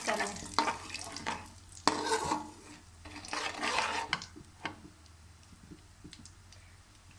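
Semolina is stirred in melted ghee for besan halwa, with several loud scraping strokes of the spoon at first, then lighter ticks and a soft sizzle that fades toward the end.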